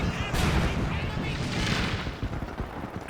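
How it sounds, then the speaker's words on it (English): Calliope rocket artillery in Company of Heroes 2 lets loose a dense, rumbling barrage of blasts and booms. The thunder is loud and sustained, then breaks up into scattered crackling impacts. "We've got the Calliope coming in though. This could be nasty."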